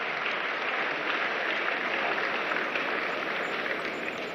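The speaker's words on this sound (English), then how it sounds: "Please a round of applause for her." Audience applause at a Nigerian engineering assembly ceremony, a dense, steady wash of many hands clapping throughout, loud and even, with no speech over it.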